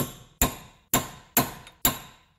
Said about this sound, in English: You're going to take a decently weighted hammer, and then you're going to beat this thing as though it owes you money.